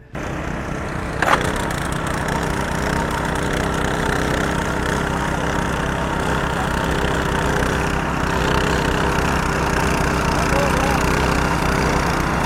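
FTL820 and FTL620 double-gardan cultivators run together in a terraced field, a steady close engine drone with continuous rattling, after a brief knock at the start.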